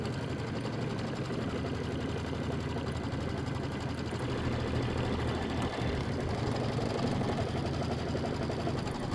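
Embroidery machine stitching a tack down, a fast steady mechanical whirring rattle that runs continuously and loudly up close, with no talk.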